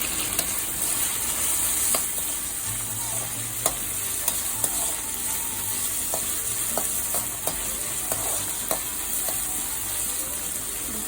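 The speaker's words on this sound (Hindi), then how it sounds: "इसी तरह से हल्का सा ही रोस्ट करना है, पूरा क्रंच रहेगा" Boiled pasta is lightly roasted in a pan at home, a continuous soft sizzle with scattered clicks and scrapes of stirring, fairly close and steady throughout.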